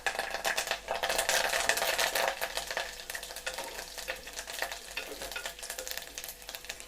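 Curry leaves crackle and sizzle sharply in hot oil for a pirandai curry, loud bursts at first easing into a steady frying hiss with faint stirring.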